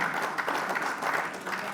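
An audience of senior civil officers claps for recited Urdu poetry at a session, a brief, even burst of many hands with a soft crowd murmur beneath.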